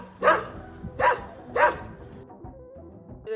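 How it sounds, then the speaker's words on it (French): Three loud dog barks in a town, spaced about half a second apart, followed by quieter background noise and a faint thump at the end. "La ville est plutôt calme, si l'on fait abstraction des aboiements incessants des chiens en grand nombre."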